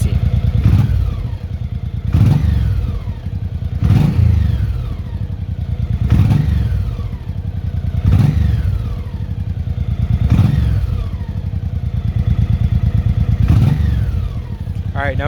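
A 1984 Honda Shadow 700 motorcycle engine idles steadily with a lumpy, slightly high rumble, pulsing in regular surges every couple of seconds.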